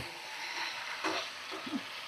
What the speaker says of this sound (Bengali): আর 2 থেকে 3 মিনিট এভাবে মানে চিকেন কষিয়ে নিয়েছি।